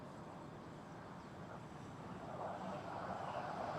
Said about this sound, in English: We have a landing as well.